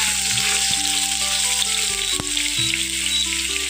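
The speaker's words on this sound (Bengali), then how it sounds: "এই তেলে আমি ছানাটাকে ভেজে নিচ্ছি।" Chhena (paneer) frying in oil over a lowered flame, with a loud, continuous close sizzle and a faint steady hum beneath.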